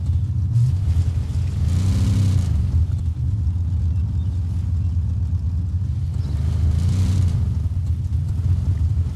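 A car engine in the Fortnite video game drones steadily throughout, a low rumbling hum that swells slightly in two spots as it drives, with no talking.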